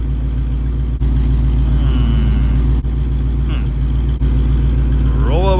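A 1973 Ford Mustang Fastback that sat rotting in a yard for 30 years runs steadily in drive, its low, rough engine rumble constant and close, with a few brief dropouts and some speech over it.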